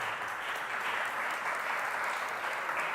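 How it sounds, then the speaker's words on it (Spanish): Sustained applause from an audience at a panel discussion on poverty and the state, a steady dense wash of clapping with no pauses, filling the whole stretch. "pedimos un aplauso"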